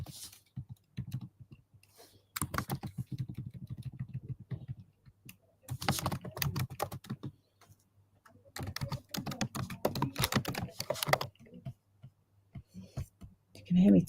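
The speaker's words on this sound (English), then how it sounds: "You can hear me typing." Bursts of rapid keyboard typing, close and clicky, come in several separate stretches with quiet gaps between them.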